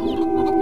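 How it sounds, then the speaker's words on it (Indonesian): A black chicken clucks in one brief, loud, close burst with a steady tonal quality and no talk over it. "penjaga losmen menangkap seekor ayam hitam"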